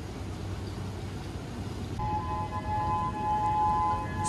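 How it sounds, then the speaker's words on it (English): Sirens begin wailing over Waikiki, Hawaii, ahead of a hurricane, a faint distant tone rising out of steady wind and ambient noise and holding for a couple of seconds. "Sirens are starting."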